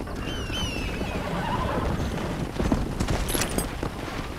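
In Red Dead Redemption, a horse's hooves clip-clop steadily toward the player against quiet outdoor ambience, with a faint whinny-like call and no talking.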